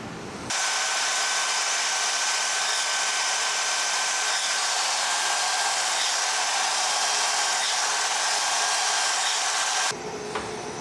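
Compressed air blasts steadily from an air nozzle, blowing out a freshly polished crankshaft for a Ford 289 V8 in a shop, one loud continuous hiss that starts abruptly and cuts off sharply near the end, with no speech.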